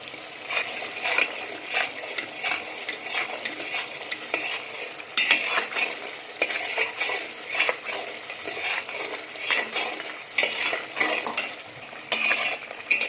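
Garlic paste with chilli powder stirred in a pan for shev bhaji, a steady scraping stir over a soft, continuous sizzle, with repeated spoon strokes at a close, even level and no talking.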